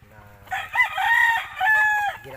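Rooster crowing among chickens being treated for illness and given vitamin B-complex, a loud close crow rising from about half a second and holding, then a second crow, over low background clucking.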